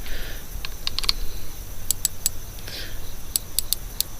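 A budget red-green dot tube sight's adjustment turret, turned with a small flat-head screwdriver, gives faint, close, crisp clicks in small clusters over a low background hiss.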